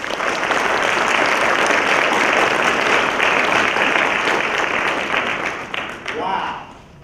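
An audience at a military service celebration applauding to welcome Brigadier General Kenneth Hubbard, a dense sustained burst of clapping that fades near the end.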